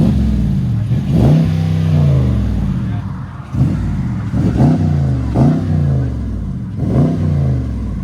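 A 2021 Dodge Charger Daytona with a 6.4L HEMI V8 and Magnaflow Magnapacks exhaust with Vibrant resonators barks through about five sharp revs in quick succession, loud and close outdoors, each blip rising then falling back to idle.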